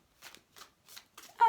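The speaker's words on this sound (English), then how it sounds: "So you would just simply shuffle up." Oracle cards are shuffled by hand in four quick, crisp riffling bursts separated by short pauses, close and fairly quiet, with no talking over them.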